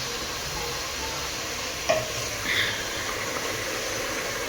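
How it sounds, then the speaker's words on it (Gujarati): Onion tempering frying in a pan in a home kitchen, a steady broad sizzle throughout with a brief clink and a short louder hiss midway. "આ તો ડુંગળીનો વઘાર મારી રહ્યા છે"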